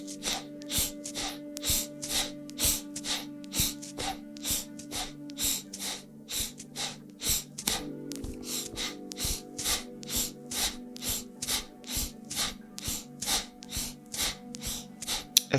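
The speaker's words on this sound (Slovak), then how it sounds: "započúvajte sa do zvuku svojho dýchania" Rhythmic pranayama breathing, with sharp, audible inhales and exhales repeating quickly and evenly, close and loud over a soft sustained drone, without speech.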